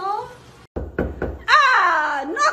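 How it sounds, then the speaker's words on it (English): Three quick knocks on a door, close and solid, followed by a voice speaking. "knocking on the door hurts my knuckles"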